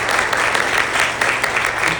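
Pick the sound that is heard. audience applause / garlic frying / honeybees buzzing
audience applause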